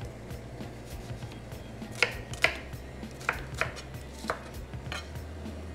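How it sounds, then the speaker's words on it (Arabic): A knife chops an onion on a cutting board, giving a handful of crisp, separate cuts spaced unevenly against a quiet kitchen background with a low hum. "البصلاية لما باجي أقطعها"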